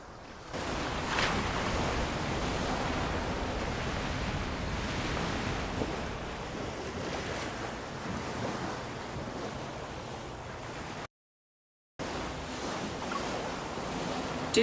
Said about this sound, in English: The sound of the waves seems to be getting louder.